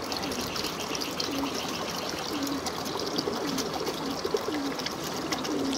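Pigeons in a home loft, soft repeated cooing from several birds over a steady watery trickle from their drinking water, with faint scattered rustles and murmurs of background noise.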